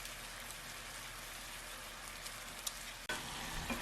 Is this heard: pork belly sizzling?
yes